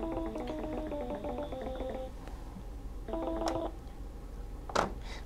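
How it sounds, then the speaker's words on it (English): An IP phone call placed by VoIP speed dial from an NXP K60 microcontroller tower board: a run of dialing tones, then a second short burst of tones and a click, fairly quiet against a steady background hiss. "So when I press that, that's just going to place a call back to the IP phone that we have here."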